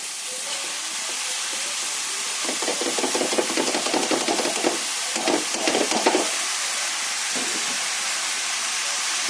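Fenugreek greens and turmeric go into soft, cooked-down eggplant in a hot pan, raising a loud, close hiss and sizzle with intermittent bursts of stirring and scraping over steady background noise.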